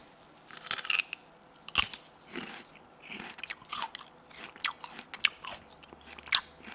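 Crunchy sugarcane is bitten and chewed up close: sharp, cracking bites followed by a run of wet, fibrous crunching chews at an irregular rhythm, fairly quiet, with no talking.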